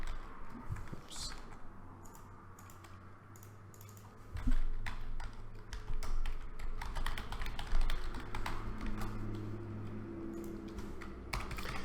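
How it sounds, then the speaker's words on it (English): Steady typing on a computer keyboard, with rapid clicking keystrokes in irregular bursts over a low background hum, close and fairly quiet. "And I typed the same line"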